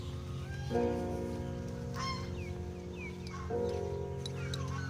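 Two loud, nasal goose honks a few seconds apart, close by, over a steady low rumble, with fainter calls in between.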